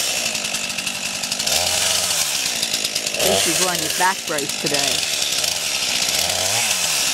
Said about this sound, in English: Run the gas out of the chainsaw is what he said.